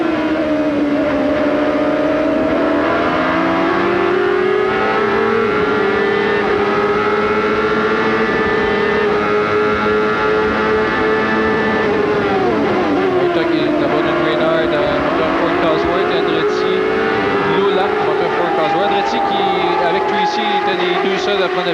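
Race cars with series-production Ford engines circle a track, their engines holding a loud, continuous drone that rises and falls in pitch as they accelerate and lift, close and unbroken throughout.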